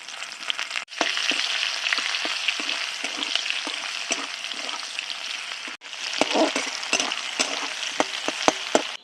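Chopped onions hitting hot oil with bay leaves, dried red chillies and whole cumin, a loud sudden sizzle that settles into a steady fry, cut by a brief gap and sharp stirring clicks.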